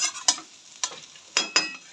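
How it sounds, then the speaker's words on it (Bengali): Potatoes frying in a pan for a home-cooked Sunday snack, with a soft steady sizzle broken by several sharp stirring scrapes spaced irregularly; close and fairly quiet, with no voices. "তো তার জন্য আগে ভেজে নিচ্ছি আলু ভাজা।"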